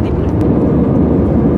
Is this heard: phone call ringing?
no